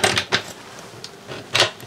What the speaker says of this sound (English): There's your massive cutlery drawer.